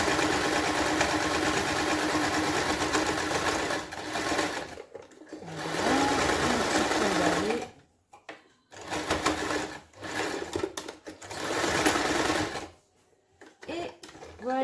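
A sewing machine stitching makeup remover wipes runs in a loud steady whir, stopping and restarting in several bursts with short pauses between runs.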